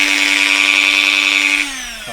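A Dremel rotary tool whines steadily at high speed while cutting grooves into Italian leather on a steering wheel, the pitch dropping as it spins down near the end; close and loud, no talk.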